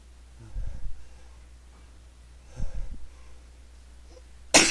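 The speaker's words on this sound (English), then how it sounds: "I have to sneeze." A person sneezes in close range, with two soft breathy bursts followed by a sharper, louder burst at the end, in a quiet room without speech.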